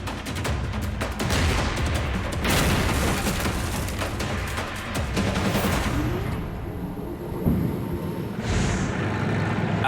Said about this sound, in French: Les obus de 120 mm touchent la cible.